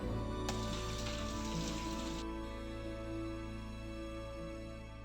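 Thinly sliced green mangoes being washed under running water for a raw mango chutney, a steady close splashing rush with a brighter spray for the first couple of seconds.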